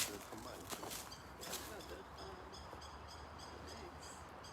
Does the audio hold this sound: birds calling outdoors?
yes